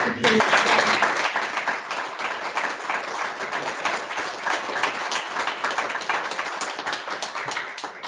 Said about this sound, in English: I just wanted us to really give her a round of applause.